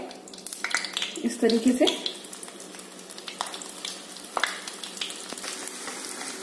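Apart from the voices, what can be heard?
boiled potatoes frying in hot ghee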